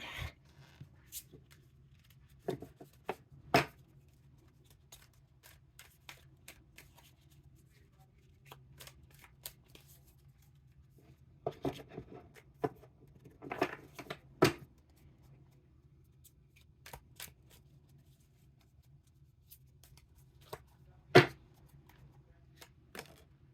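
Tarot cards shuffled by hand, heard as scattered soft riffles and sharp snaps at irregular intervals, quiet and close over a low steady hum.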